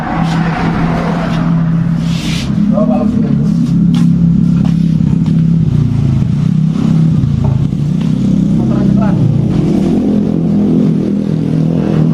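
A 2020 Honda Scoopy scooter engine idles steadily and close by, a continuous low hum with a brief rise in revs near the start and faint clicks over the drone.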